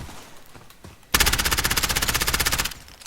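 Automatic gunfire in Call of Duty Modern Warfare Warzone: after a second of quiet, a loud rapid burst of about twenty evenly spaced shots rattles for roughly a second and a half, then stops abruptly.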